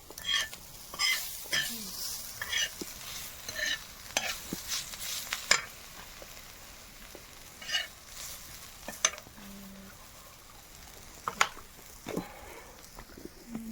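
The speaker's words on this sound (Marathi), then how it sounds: "ही रात्रीची शेंग गरम केली नाही कडकच करायचंय थोडं" Leftover pods from the night before reheated in a pan until crisp: a low sizzle under repeated clinking, scraping stirs of a utensil against the pan, with faint talk at moments.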